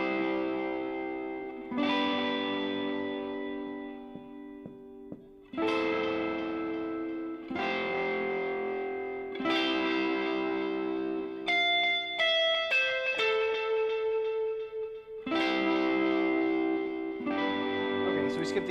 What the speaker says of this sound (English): Pretty typical electric guitar worship lick.